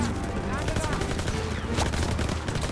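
Dense, rapid video game gunfire bursts continuously and loudly, with a voice talking over it.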